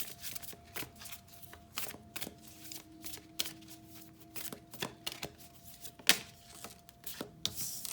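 Moonology oracle cards being shuffled by hand at close range, a steady run of soft riffling slaps and flicks with a few sharper snaps, no voices.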